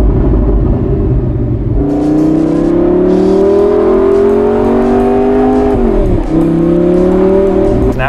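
A Lamborghini sports car engine revs and accelerates loudly and up close, its rising drone climbing steadily before a brief dip and another surge, with no talk over it.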